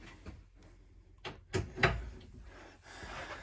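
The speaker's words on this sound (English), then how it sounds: "And if I just unclip the door, more shelves" Clicks and knocks of a storage cupboard door being unclipped and opened aboard a narrowboat, a few short close thuds and rattles in a quiet interior.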